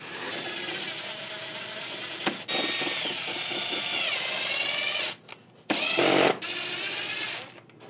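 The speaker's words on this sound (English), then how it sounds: "We're gonna use the same wood screws and screw this into place." A power drill drives wood screws to fix a skull onto a motorized hanging skeleton mech, a loud, sustained whirring with brief pauses and pitch changes as each screw seats.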